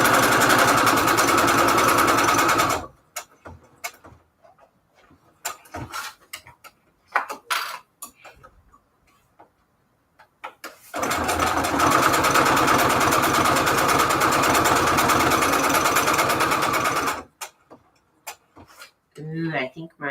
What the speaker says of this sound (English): I'm just sewing a million bazillion of these envelopes.